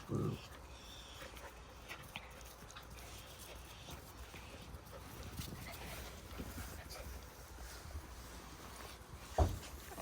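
Jindo puppies scuffle and play-fight with yips, whimpers and small growls, while people talk and laugh nearby; a sharper yelp near the end.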